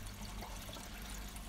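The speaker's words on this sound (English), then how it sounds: "The excess water is sent down along the piping where it returns to the tank." Excess water flowing down piping from a pond bog filter back into the fish tank, a quiet steady trickling flow without talk.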